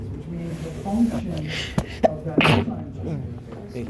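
A sneeze bursts out once mid-clip from someone nearby during a classroom lecture on enzymes and exercise, cutting briefly through the steady speech of the lecturer, who keeps talking around it.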